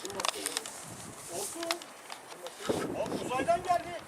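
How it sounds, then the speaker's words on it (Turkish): Soft pigeon cooing close by, mixed with people talking and some rustling and outdoor noise. "Gezen güvercin bu oğlum."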